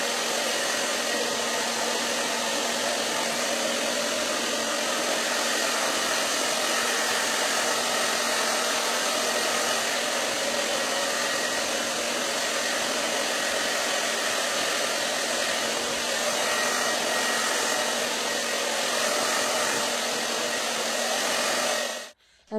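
A hair dryer blows on hair in a steady, loud, close whoosh that runs unbroken for about twenty seconds and then cuts off abruptly.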